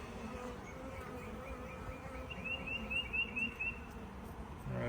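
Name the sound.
honey bees buzzing at a hive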